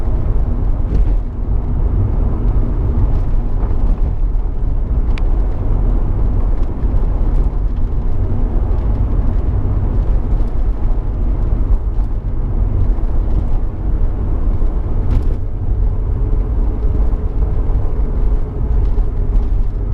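A 2003 Alfa Romeo GTV 2.0 Twin Spark 16v drives along steadily, its engine and road noise forming a constant loud rumble from inside the car with no talking.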